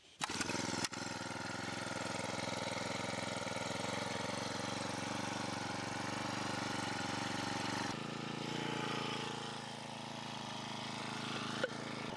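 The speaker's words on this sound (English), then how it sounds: "But I'm going to use my post driver today. That'll be the fastest way to get this done." A powered post driver drives poles for an electric fence, giving a loud, steady mechanical drone with a faint rhythmic pulse that runs the whole stretch and shifts in tone near the end.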